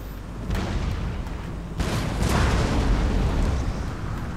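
Napoleon: Total War cannon artillery fire in a battle: two muffled booms, the second heavier, rise out of a continuous rumbling din of battle noise.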